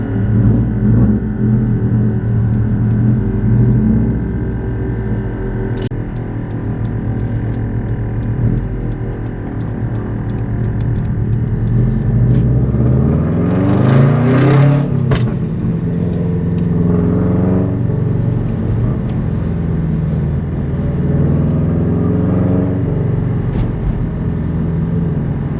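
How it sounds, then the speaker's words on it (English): A 2017 Subaru STI's deep Tomei full titanium exhaust rumble idles, then swells as the engine revs up and sweeps higher before settling back to a throaty burble. "You cannot miss that rumble."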